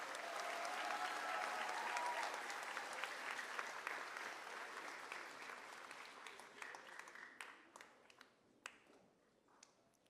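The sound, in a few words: audience applause for a class at a graduation ceremony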